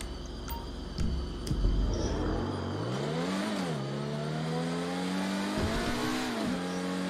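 Car engine revving in a roleplay video game, a loud, close motor whose pitch climbs, dips and climbs again through gear changes, with a few sharp clicks at the start and no talking.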